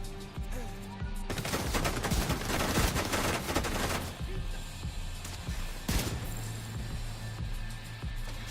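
Rapid gunfire in The Division 2, a dense burst of automatic shots lasting a few seconds followed by a lone loud crack, close and harsh over a steady low game hum.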